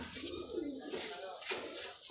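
Madrasi pigeons coo in a home loft, soft rolling coos in a few short bursts, near and fairly quiet, with a voice murmuring in the background.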